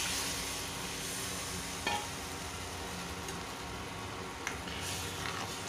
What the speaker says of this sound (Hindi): अब गाइज हम इसमें तैयार घोल डाल देंगे